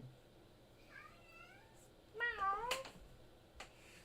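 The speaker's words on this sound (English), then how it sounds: "I hear cat" A cat meows twice in a row, the second cry louder and closer, with a short sharp noise just after and a faint thump later, all over quiet room hum.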